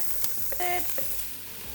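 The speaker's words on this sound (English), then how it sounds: "I love the sound of that sizzle." Chopped vegetables tipped into hot oil in a pot over medium-high heat give a brief, soft sizzle, with a few light clinks and stirring noises close by.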